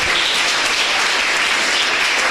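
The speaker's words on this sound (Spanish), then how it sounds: "dale ese aplauso a Él" Loud, sustained applause from a church congregation, an even, unbroken roar of many hands clapping together without pause.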